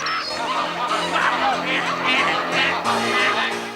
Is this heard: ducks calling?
yes